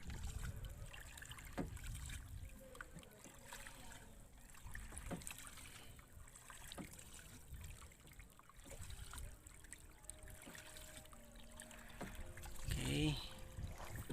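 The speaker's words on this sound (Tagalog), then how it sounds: "Kaya sinasagwanan lang muna hanggang makarating siya dun sa medyo malalim" Quiet paddle strokes dip into shallow water at irregular intervals as a fishing boat is rowed before its engine is started, with soft trickling and splashing and faint low background noise.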